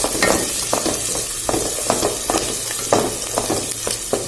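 Garlic and onion sauté in a hot pan with a steady sizzle, broken by regular scraping stir strokes roughly every half second, close and moderately loud.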